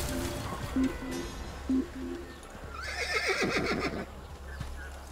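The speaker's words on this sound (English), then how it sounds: "Nothing here but a horse eating" A horse whinnies loudly over a steady low ambient drone in the video game Assassin's Creed, with some soft thuds and rustling before it.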